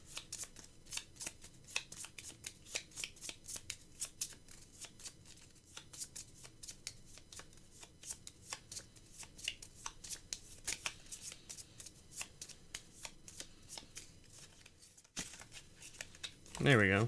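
Close, steady card shuffling: a long run of quick riffles and soft slaps repeating in a brisk rhythm, ending with a short voice at the close.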